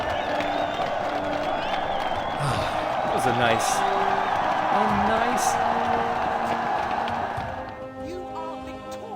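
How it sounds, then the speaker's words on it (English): Slow victory applause and cheering from a crowd in the Warlords Battlecry II strategy game, a steady wash of clapping and whoops with game music tones, briefly under a voice, fading near the end. "There is the slow applause of victory."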